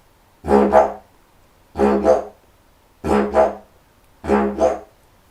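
Four short didgeridoo bursts, the drone broken into two quick pulses each, evenly spaced with silence between, close and fairly loud.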